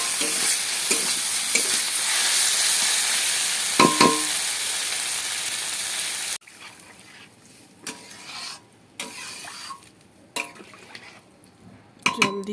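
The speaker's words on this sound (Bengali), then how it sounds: "এখন আমি এর মধ্যে জল দিয়ে দেবো।" Water is poured into frying masala for an egg curry: a loud, dense sizzle fills the first six seconds, then cuts sharply to a quieter simmer broken by scattered spoon-stirring clatters.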